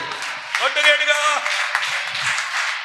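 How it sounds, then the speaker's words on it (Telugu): A church congregation claps hands together during a Sunday sermon, a steady broadband patter of applause running the whole way under a preacher's loud voice. "చప్పట్లు కొట్టు."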